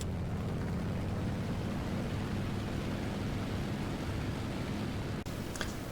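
A Spitfire IIB piston aircraft engine drones in the War Thunder video game, a steady broadband roar heard from the cockpit that holds constant before a sharp break near the end.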